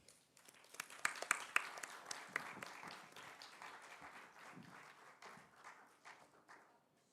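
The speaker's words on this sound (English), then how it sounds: "Let's warmly welcome Mr. Saurya Mishra with a resounding round of applause" A crowd at a TEDx talk applauds steadily as a speaker is welcomed, with sharp individual claps standing out early and the clapping gradually thinning and fading toward the end.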